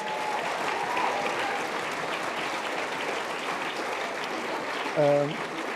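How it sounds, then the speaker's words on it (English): Sustained applause from a charity awards audience at the Sheraton for the hotel staff, a dense, steady crowd clapping throughout, with a brief voice rising over it near the end. "Give them a big round of applause."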